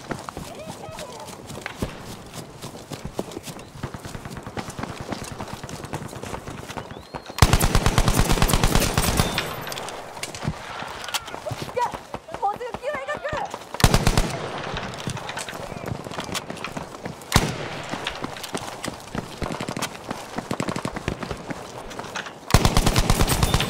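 Bursts of rapid automatic gunfire from a light machine gun in the video game Battlefield V, loud repeated volleys separated by short pauses, with faint in-game movement sounds between them.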